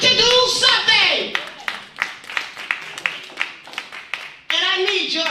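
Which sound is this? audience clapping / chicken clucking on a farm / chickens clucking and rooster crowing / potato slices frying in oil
audience clapping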